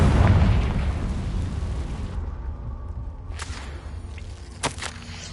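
A Confringo blasting spell from a Hogwarts video game bursts with a loud whooshing boom up front, then fades into a low rumble, followed by a couple of sharp cracks near the end.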